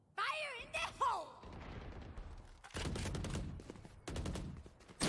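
Video game combat from a competitive team match, with a rocket launch and bursts of gunfire cracking in clusters, loud and close, alongside a brief voice-like swoop at the start.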